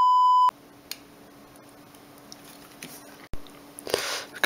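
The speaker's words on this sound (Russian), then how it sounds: "телефон перезагружается" A Nokia N73 phone from 2006 rebooting gives a short steady electronic tone at the start, then quiet with faint handling clicks and small rustles near the end, no voices.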